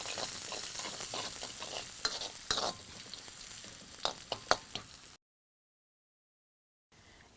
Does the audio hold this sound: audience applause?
no